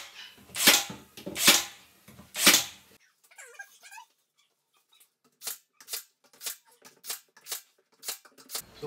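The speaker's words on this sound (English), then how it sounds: "Now we're just going to shoot some brad nails in it." Brad nailer firing brad nails into a decorative wood piece on a sliding barn door, a rapid series of about eight sharp, close pneumatic snaps in a steady rhythm, following a few louder bursts and a short quiet pause.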